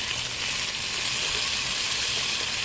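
Chicken sizzles and crackles in a hot pan: a loud, steady, hissing fry heard up close without pause.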